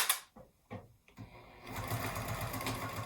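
A sewing machine stitches a 3/8-inch seam on a zippered cosmetic bag: a few light handling clicks, then the motor whirs steadily with a rapid, even needle rhythm, close and continuous.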